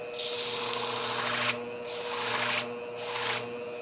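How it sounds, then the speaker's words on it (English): A swarf eraser rubs a Tondeo German shear blade in three short scrubbing strokes with brief pauses between them. "Might want to clean this up a little bit with my swarf eraser"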